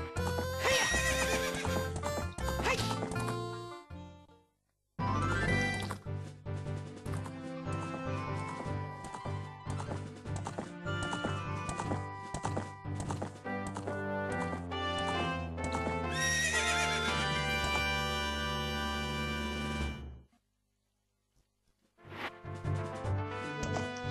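Horse neighs and clip-clopping hooves from Zelda: Ocarina of Time, loud and layered over game music, running almost continuously with a short silent gap near the middle and another near the end.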